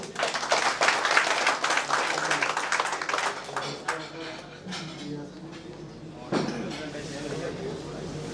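A crowd at a discussion meeting marking 26 March Independence Day claps for the organizing committee. Brisk, dense applause fills the first few seconds, then fades into scattered claps and room noise with speech.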